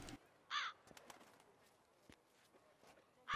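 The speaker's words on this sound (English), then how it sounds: "I wonder what the birds are doing." Crows caw in a video game set in the world of The Witcher 3, with one harsh call near the start and another at the very end over quiet ambience and light footsteps.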